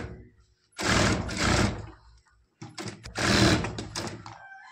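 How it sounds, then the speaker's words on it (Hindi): A sewing machine runs a seam on a lehenga blouse from chest to waist in two loud, close bursts of rapid stitching, separated by a short pause. "अब इसकी लगाते हैं सिलाई सीना से कमर तक।"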